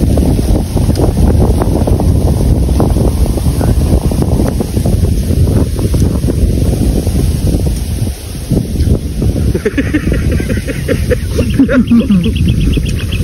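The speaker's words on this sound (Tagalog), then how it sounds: "lakas ng hangin." Strong wind buffets a microphone outdoors in a steady, loud, roaring rumble with constant gusty crackle, masking any other sound, with faint voices and a higher tone near the end.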